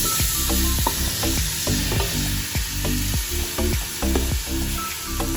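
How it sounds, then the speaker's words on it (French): Silver fish and tomatoes frying together in a pan for a Réunion-style dish, with a steady, dense sizzle broken by repeated scraping and stirring knocks at close range and no talking. "Maintenant on va laisser tous cuire ensemble avec les tomates aussi."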